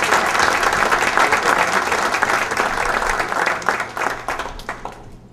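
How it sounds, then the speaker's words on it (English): An audience at a mayor's evening event gives a sustained round of applause, dense clapping filling the room before thinning and fading out at the end. "Let's go give him a big round of applause"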